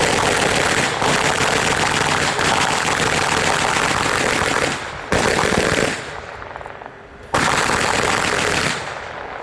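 Bursts of heavy machine-gun fire of the type mounted on M1 Abrams tanks, shown at a military timeline event: long, loud, dense rattling strings broken by short pauses, with the final bursts shorter and choppier.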